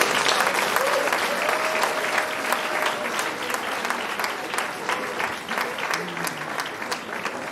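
A hall audience at a law valedictory session applauds after a lecture, dense sustained clapping from many hands filling the room at an even level throughout, with faint crowd murmur beneath.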